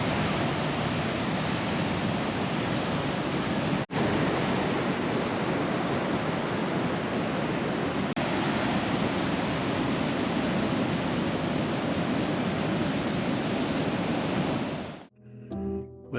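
Steady roar of surf on the beach at Locks Well on the Eyre Peninsula, loud and continuous wash of breaking waves with two brief dropouts, ending in a few soft handling bumps.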